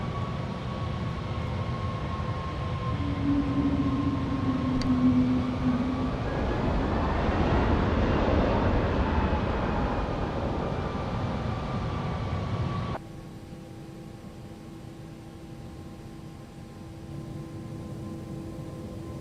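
Simulated ToLiss A321neo airliner sounds from X-Plane play: a loud, steady broadband engine roar with a low tonal hum that swells mid-way, then drops abruptly to a quieter, thinner drone.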